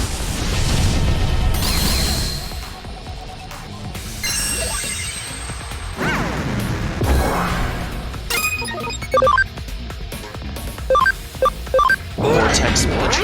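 Starlight Explosion attack from the Digimon Cyber Sleuth video game: a run of loud crashing, shattering and sparkling synthetic effects with bright chiming tones and sharp repeated bursts near the end.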